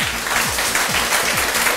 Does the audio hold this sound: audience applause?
yes